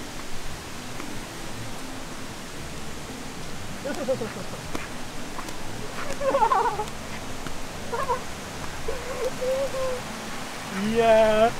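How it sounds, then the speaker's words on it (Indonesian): An orange cat meows in a park in Bandung, with faint, scattered mewing calls over steady outdoor background noise. "di taman sini banyak banget Kucing oren"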